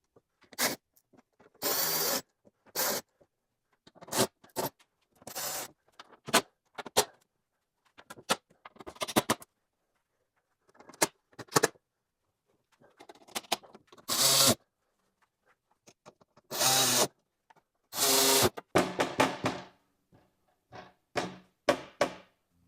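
Tightening coarse threaded screws into an aluminum skid plate under a BMW with a power driver, heard as a string of short, sharp, loud bursts separated by gaps and light handling noises.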